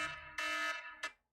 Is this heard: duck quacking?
no